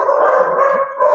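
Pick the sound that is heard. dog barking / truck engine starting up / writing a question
dog barking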